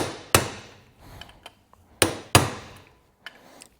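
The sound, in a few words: hammer striking spring-loaded manual impact driver to turn bolts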